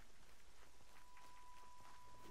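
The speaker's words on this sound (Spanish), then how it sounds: "¿por qué está lloviendo si ahorita estaba el sol?" Steady rain falls in the video game Horizon Zero Dawn, a soft, even hiss of drops that carries on without a break. The rain is faint and close, with no one talking over it.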